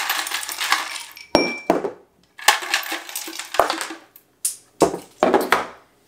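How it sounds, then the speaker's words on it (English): Ice cubes are dropped into a cocktail glass in a series of sharp clinks and rattling tumbles, several separate bursts close up over a few seconds, with no talking. "Step one, I'm gonna pop some ice into the glass."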